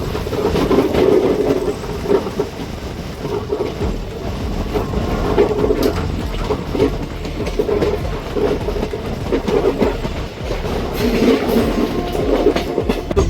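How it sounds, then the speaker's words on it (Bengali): The 13141 Teesta Torsa Express pulling out of Azimganj, heard as a loud continuous rumble of railcars with rhythmic clickety-clack from the wheels, steady throughout with no speech. "যেহেতু বিফোর টাইমে ঢুকেছে তাহলে অনেকক্ষণ ট্রেন দাঁড়ালো, তারপর 1 মিনিট লেটে ছাড়লো এই আজিমগঞ্জ থেকে।"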